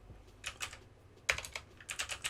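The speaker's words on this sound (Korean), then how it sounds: "컨트롤 시프트 N을 눌러서" Keys pressed together as a shortcut on a computer keyboard: a few quiet, crisp clicks in short clusters with small gaps between them, and no voices.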